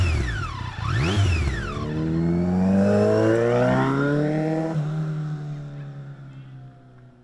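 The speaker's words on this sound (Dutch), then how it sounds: "Mooie driecilinder, gelijkvormig, gelijkmatig geluid." A three-cylinder motorcycle engine revs up and settles into a smooth, even running note, close and loud, with rising and falling pitch sweeps before holding steady and fading slightly toward the end.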